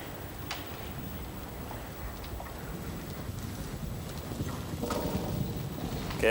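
A horse canters through a bounce exercise, its hooves giving a soft, rhythmic clip-clop at a steady pace, faint and somewhat distant, with no talking.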